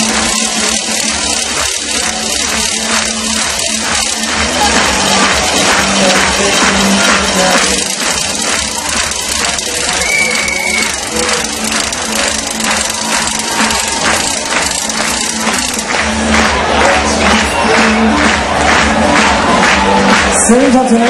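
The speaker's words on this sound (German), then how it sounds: "Es klatscht wieder lauter." Dense rhythmic clapping from a large crowd at the finish of the Sparkasse Marathon 2011, steady and loud, with an announcer's voice and music over it throughout.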